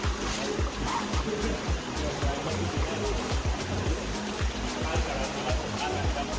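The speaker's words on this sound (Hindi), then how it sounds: "अब यहाँ पे 2 वाटरफॉल है।" Waterfall near Ubud, Bali, with a steady, loud rush of falling and splashing water filling the whole clip, rough low surges rolling underneath.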